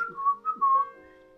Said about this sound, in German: Nicht pfeifen?